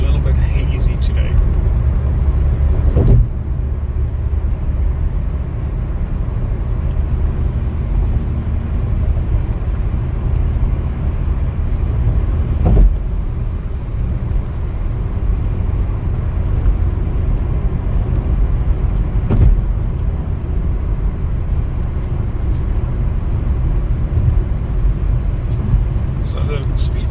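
A car drives along a road in Dubai, carrying a continuous low engine and road rumble at a steady level for the whole stretch, with a few faint thumps and someone talking over it.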